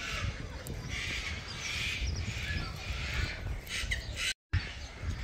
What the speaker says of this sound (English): Not sure who is squawking at who at the moment.